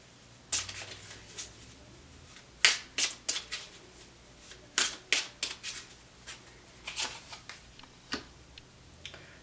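Tarot cards are shuffled and riffled in quick bursts of crisp snapping and flicking, grouped in several clusters with short pauses, close and fairly quiet.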